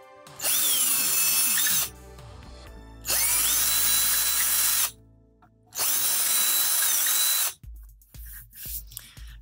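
A power drill whirs loudly in three sustained runs reaming out holes in a Proxxon Thermocut, separated by brief pauses and clicks, then a few short bumps and handling sounds.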